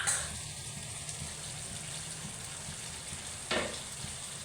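Pork rib kaldereta boiling in a pot, a steady close bubbling and simmering hiss with one short sharp clink partway through, no voices.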